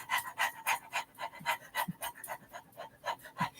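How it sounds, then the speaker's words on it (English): A person pants rapidly during a breathing exercise, a steady run of quick, close, breathy huffs at an even rhythm, heard alone. "Hold your breath, pant."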